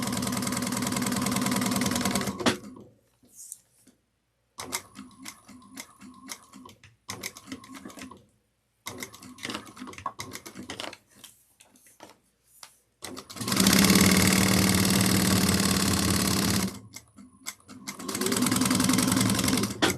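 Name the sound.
sewing machine with loud motor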